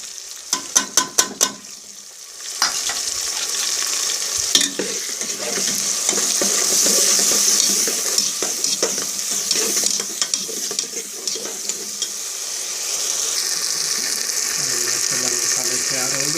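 Spice masala with chopped tomatoes for mutton liver frying and being stirred in a pan, a steady loud sizzle broken by repeated scraping and clattering strokes of the spoon, with a few sharp knocks near the start.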